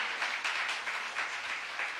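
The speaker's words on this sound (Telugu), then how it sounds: "గట్టిగా చప్పట్లు కొడదాం" A church gathering led by an archbishop breaks into steady audience applause, a soft, even wash of many hands clapping at moderate distance, without talk.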